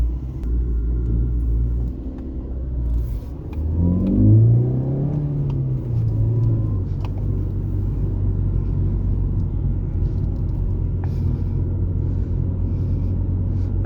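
A Ford Focus fitted with twin throttle bodies and running lean rumbles heavily in the street, its engine note rising and bogging during a brief acceleration around the middle before settling back into a steady low drone.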